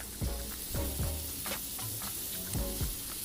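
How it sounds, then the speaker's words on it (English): A chicken breast sizzles in melted butter in a hot pan, a steady crackling fry heard up close with a few soft clinks and scrapes of the pan recurring over a few seconds. "Make sure it sizzles like this so you know that the pan is hot and you get a good color on the chicken."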